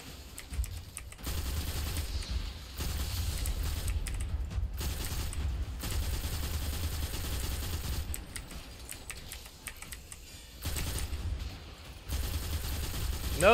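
Machine gun fire in the Destiny 2 video game comes as long sustained bursts of rapid shots, separated by short pauses, loud and close with no talking.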